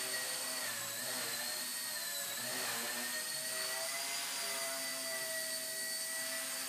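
A Horizon E-flite Blade Nano CPX micro RC helicopter flies indoors, its high-pitched rotor and motor whine steady and close throughout, with shifting tones as it maneuvers.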